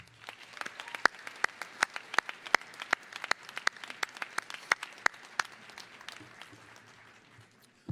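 Commencement audience at the University of Wisconsin–Parkside applauds parents, families and friends, with sparse, distinct handclaps scattered across the hall that thin out and fade toward the end.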